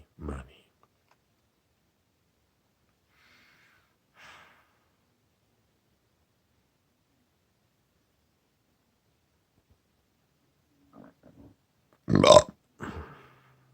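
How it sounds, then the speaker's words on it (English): A single loud, close burp erupts near the end, preceded by scattered faint breaths, clicks and a sigh across an otherwise quiet stretch, with a short breathy tail just after. "That's a burp."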